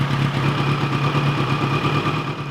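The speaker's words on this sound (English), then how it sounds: "the very audible change in the exhaust sound that occurs when I plug these two hoses on top of the engine" A 1986 GPZ1000RX motorcycle engine idling steadily nearby, its exhaust giving a low, even, throbbing rumble with no talking.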